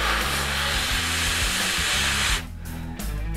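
Breath blown into an iPhone microphone to drive a steam-effect app, a steady loud rushing roar that cuts off abruptly after about two seconds, followed by a gustier, broken burst.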